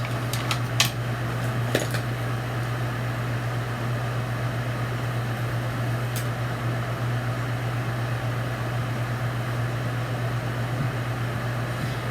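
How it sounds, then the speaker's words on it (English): Hair dryer blowing to dry fresh paint on a Halloween gnome, a steady loud whooshing hum with a constant low drone throughout, with a few brief clicks near the start. "Is there such thing as a silent hair dryer?"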